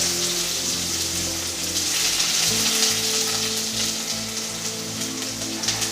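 Chopped onions, bay leaf and star anise sizzle in very hot oil for a tempering, a loud, dense, continuous crackling fry heard up close with a steady low background hum and no talking.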